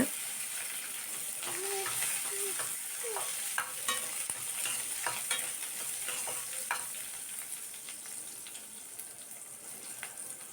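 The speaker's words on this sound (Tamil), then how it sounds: "ஒரு கப் சின்ன வெங்காயத்தை கட் பண்ணி வச்சுருக்கேன், உள்ளே சேர்த்து நல்லா வதக்கி விட்டுக்கோங்க." Chopped small onions (shallots) sauté in a pan with neem leaves for vatha kulambu, producing a soft continuous sizzle broken by scraping stirs and small pops, heard up close without speech.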